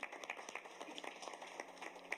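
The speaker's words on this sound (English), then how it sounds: "we can applaud for them" A small group applauds students at a school board meeting, a brief, faint patter of scattered hand claps with uneven rhythm.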